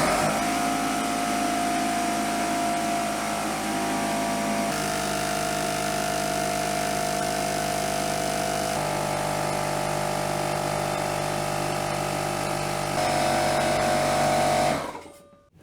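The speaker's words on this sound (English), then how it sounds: "the first power tool that I want to test running on the power station is my portable air compressor" A portable air compressor with a 10 amp motor, powered from a portable power station, runs loud and steady for about fifteen seconds with a constant motor drone and slight tonal shifts, then cuts off abruptly.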